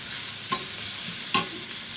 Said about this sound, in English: We will just sweat the onions.